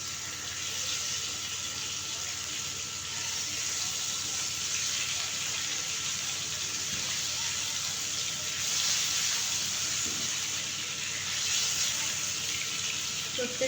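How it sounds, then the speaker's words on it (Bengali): Pieces of pangas fish fry in a pan, giving a steady, hissing sizzle that holds level throughout. "মাছগুলো দিলাম, এখন আমি এগুলো ভেজে নিব। এখন আমি মাছগুলোকে উল্টিয়ে নিব।"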